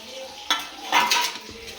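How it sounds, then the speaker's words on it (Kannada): A spoon scrapes and turns biryani in a pot for a few short strokes, with a faint sizzle underneath, close and moderately loud. "ನೀಟಾಗಿ ಎಲ್ಲ ಮಿಕ್ಸ್ ಮಾಡ್ಕೊಬೇಕು."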